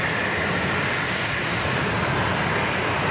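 A Southwest jet airliner takes off from runway 27 at San Diego airport, its engines making a loud, steady broadband roar throughout with no talk over it.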